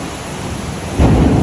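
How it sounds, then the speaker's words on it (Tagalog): Heavy rain roars steadily, swelling sharply louder about two-thirds through with a deep rumbling surge like thunder; no talking. "Napakalakas ng ulan."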